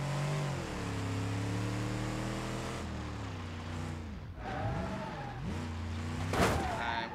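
Car in a driving video game revving as its engine pitch climbs, dips and rises again, with tires skidding and squealing while it understeers, moderately loud with a sharp burst near the end; a voice talks faintly underneath.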